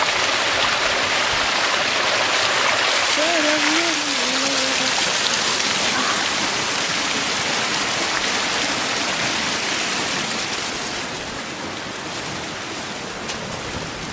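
A waterfall in a city forest roars as a loud, constant rush of falling water close by, with a brief voice speaking over it early on.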